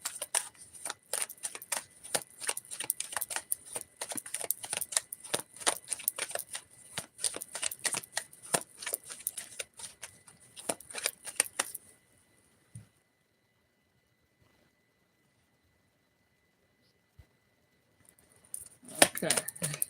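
Tarot cards are shuffled in rapid crisp riffling bursts for about twelve seconds, then near silence, with a brief return of card handling at the end.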